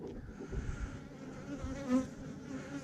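Honey bees buzz at a swarm hive being inspected at sundown, a dense steady hum with individual bees droning nearby, no voices.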